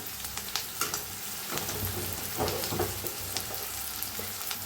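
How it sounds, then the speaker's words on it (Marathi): Onion and tomato frying in a pan for a pumpkin bhaji, a continuous close sizzle with intermittent scraping stir strokes and small crackles, no voices. "आता कांदा टोमॅटो चांगलं भाजत आलंय"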